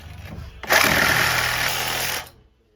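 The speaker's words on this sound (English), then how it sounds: "I'm gonna use this saw just to cut the flange." Saw cutting through a broken cast iron pipe flange, a loud continuous buzzing, rasping power-tool whine that starts abruptly, runs for about a second and a half close by, then cuts off.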